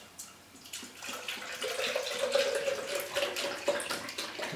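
Pineapple juice pours steadily into a container over meat for Swiss-style pulled pork, a continuous close liquid stream that starts after a brief quiet moment and runs to the end.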